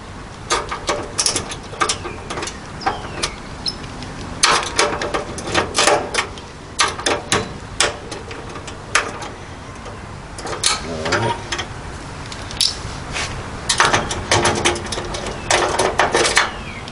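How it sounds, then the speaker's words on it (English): Socket wrench ratcheting bolts tight on a Green Mountain Grills Daniel Boone front shelf: rapid clicking bursts in uneven runs, fairly close, with short pauses between strokes and no talk. "Now I'm just going to lock those in real tight with the socket wrench here"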